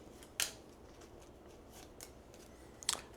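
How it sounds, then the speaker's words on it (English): Tarot cards are drawn and handled quietly, with two crisp, sharp snaps well apart and faint soft rustling between them in a hushed room. "let's pull up two cards for you to clarify"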